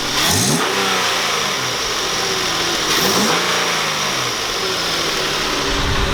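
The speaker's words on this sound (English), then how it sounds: "Let's rev it." A 2009-era Infiniti G37's engine, fitted with aftermarket intakes, revs up twice in quick surges, climbing and falling over a steady loud idle, close by.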